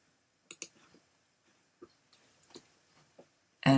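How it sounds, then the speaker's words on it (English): A computer mouse clicks sharply and close by in Silhouette Studio, several sparse single and double clicks spread over a few seconds, then a brief louder burst of noise at the end. "then I click this button and I go find my file"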